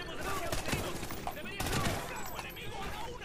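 Dense bursts of automatic gunfire and overlapping shots in the Call of Duty: Ghosts campaign, a busy and fairly loud battlefield mix with no clear pauses.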